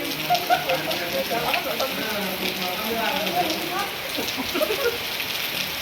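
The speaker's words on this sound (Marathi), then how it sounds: "फुल पाऊस आलेला आहे." Heavy rain patters continuously on surfaces nearby during a children's swimming session, a dense steady hiss, with voices talking faintly underneath.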